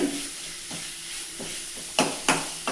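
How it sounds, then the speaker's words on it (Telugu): Ingredients, including ginger, frying for chicken kurma in a pan: a continuous hissing sizzle broken by several sharp scrapes and clatters of stirring, close and with no talk. "ఇప్పుడు అల్లం పెట్టి కూడా బాగా వేగనివ్వాలి"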